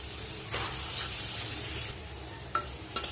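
Chopped onion and garlic fry in a pan for a Bengali okra roast, a steady close sizzle with a few sharp stirring scrapes of the spoon against the pan.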